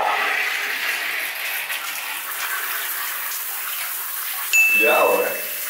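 A new shower head sprays water in a home shower as a steady, broad hissing rush that runs throughout, with a brief louder tonal ding and splash near the end.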